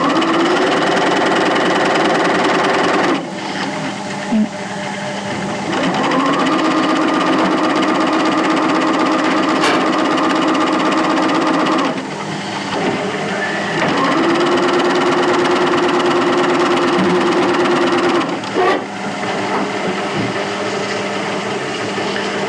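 A sewing machine stitches two layers of heavy cotton pocketing fabric along a seam, running in loud steady buzzing bursts of several seconds each with brief pauses between.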